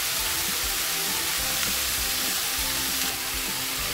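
Potato and tuna fry in a pan with a dense, even sizzle, and a utensil scrapes and stirs at close range throughout. No voices.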